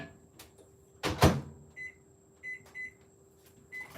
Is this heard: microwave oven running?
yes